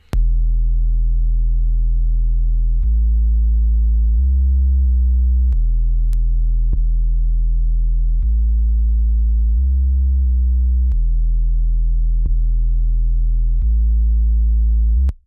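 A deep, sustained bass line plays alone, notes shifting in steady sections with a smooth, rounded low tone, repeated to compare before and after the Acustica Audio Cream preamp plugin.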